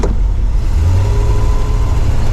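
A '68 Pontiac LeMans V8 pulls away under acceleration, a close, loud, steady engine roar holding through the whole stretch with no speech over it.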